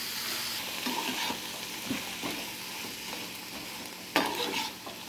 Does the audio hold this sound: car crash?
no